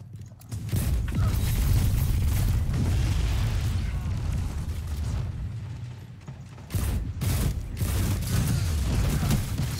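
Hand cannon shots and other gunfire ring out in a Destiny 2 Iron Banner Clash match, a loud run of bursts and booms over game effects with a brief lull partway.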